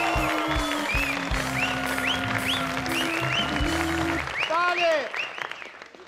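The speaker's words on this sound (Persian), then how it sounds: "یه تشویق اساسی پرسپولیسی بکنیم" A TV talk-show studio audience gives loud applause for Persepolis football club with Persepolis veterans as guests. The clapping mixes with cheering voices and whistles, a brief spoken word is heard, and the noise fades toward the end.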